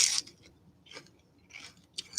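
Crunchy bites and chewing of fresh tomatillo avocado salsa, three or four brief crisp crunches spaced out over a quiet background, close and fairly soft.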